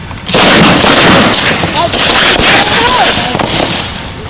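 Submachine gun fire during an army combat readiness inspection, with a burst of loud outdoor gunshots rolling on for several seconds, sharp reports under dense echoing rumble.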